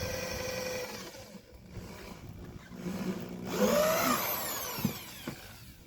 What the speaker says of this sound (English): I'll just drill straight through the tire